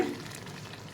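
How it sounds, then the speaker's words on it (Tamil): A brief scrape of stirring garlic pickle in a pan over a soft sizzle of frying, close and quiet, no voices. "பார்த்து கேர்ஃபுல்லாக கிண்டுங்க"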